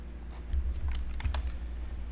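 Typing a search keyword on a computer keyboard, a short burst of close, crisp key clicks in quick irregular rhythm over a quiet room hum, with no talking.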